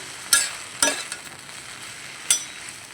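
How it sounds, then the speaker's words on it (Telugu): A spoon stirs coriander chutney in a pan with tamarind and garlic, three brisk scraping strokes close by over a faint steady sizzle. "ఇప్పుడు ఒకసారి తిప్పుదాము"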